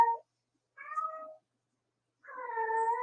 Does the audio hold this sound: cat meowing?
yes